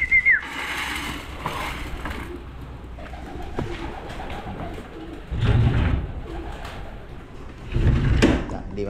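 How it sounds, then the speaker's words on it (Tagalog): Racing pigeons in a loft coo softly and shuffle about, with scattered wing flutters and a few louder bumps of movement against a quiet background. "Hindi magpapasokan yung ating mga kalapate."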